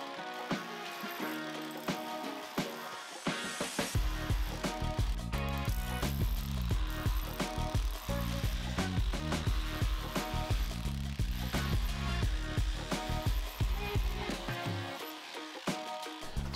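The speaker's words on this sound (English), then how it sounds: "The hammer drill certainly makes this job a lot quicker." A hammer drill runs loud and close with a rapid, rattling stream of impacts and a heavy low rumble, starting after a short lead-in and stopping near the end.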